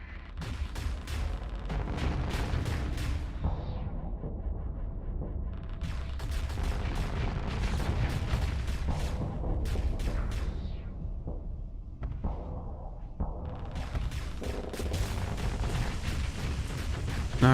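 Ship weapons firing repeatedly in a space combat game, dense rapid bursts of booming shots in clustered volleys with short gaps between, loud and continuous.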